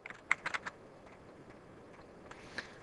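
Quick bursts of typing on a computer keyboard, a handful of close, sharp keystrokes clustered at the start and a couple more after a pause, against a quiet background.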